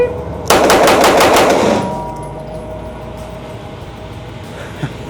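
A Daniel Defense H9 handgun fires a fast string of about a dozen shots up close. The loud, evenly spaced cracks are followed by a fading echo and a quiet outdoor background.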